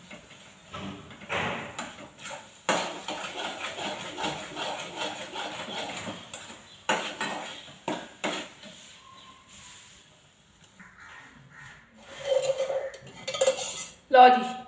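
A cooked sweet is scraped from a kadhai into a vessel in a village kitchen, with a series of metallic clinks, knocks and scrapes at uneven intervals, louder bumps near the end, and faint talk in the background.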